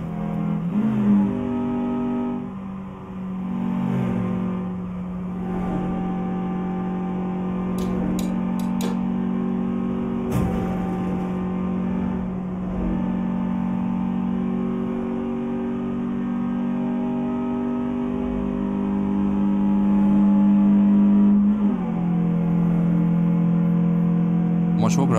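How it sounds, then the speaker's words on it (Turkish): A VW Passat B8 engine in Euro Truck Simulator 2 drones steadily and rises in pitch as it accelerates, with a voice talking over the sustained engine note. "Motor gayet güzel, iyi gidiyor ama hızlandıkça kontrolü zorlaşıyor arabanın."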